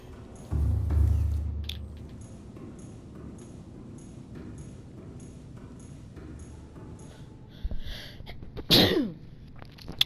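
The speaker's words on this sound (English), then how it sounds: "Sorry about that, had to sneeze." A single sharp sneeze bursts out near the end, preceded by a low rumble and some soft clicks and shuffling in an otherwise quiet room.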